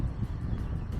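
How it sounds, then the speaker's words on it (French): Gusty coastal wind on the Île d'Oléron shore buffets the microphone with a low, rumbling roar that pulses unevenly throughout. "Désolé pour le vent."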